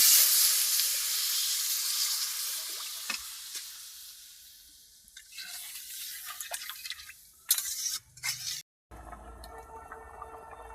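Water poured into a hot pan while cooking mung dal bursts into a loud hiss of steam that slowly fades into softer bubbling and clatter, then a sharp break and quieter cooking noise.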